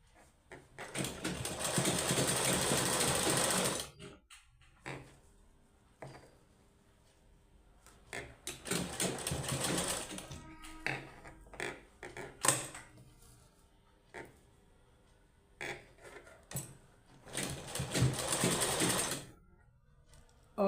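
A sewing machine stitches socks made from an old sweater in bursts of steady whirring, with three louder runs and shorter intermittent passes between them, close by.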